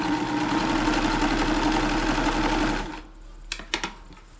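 A Kenmore sewing machine fitted with a Q-Foot runs steadily through a zigzag stitch with a close, even mechanical whir. It stops after about three seconds, and a few small clicks and handling knocks follow.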